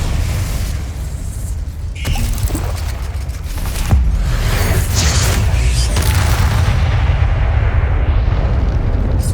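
Spell blasts and explosions in Hogwarts Legacy, heavy booming bursts rolling one into another over a continuous loud rumble, with sharp impacts around the two- and four-second marks.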